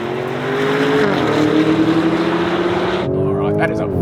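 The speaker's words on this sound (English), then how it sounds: "that is a violent old gear shift" A high-performance SUV engine roars under hard acceleration in a drag race between a Range Rover Sport SV and a Lamborghini Urus, with a rising tonal drone that dips at a gear shift, then climbs again. The engine is loud and close, and the roar cuts sharply near the end.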